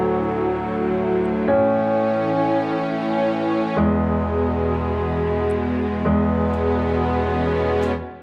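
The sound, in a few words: keys and piano with reverb, low end removed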